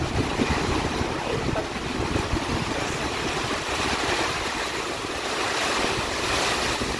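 Strong storm wind in East Texas roars steadily with a constant broadband rush and buffeting against the microphone, mixed with a surf-like wash.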